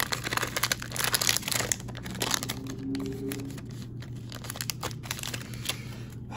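A 2020-21 NBA Hoops cello pack of trading cards is torn open, with close, soft crinkling and crackling of plastic wrapper in irregular bursts, fairly quiet throughout.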